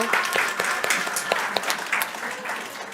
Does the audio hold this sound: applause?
yes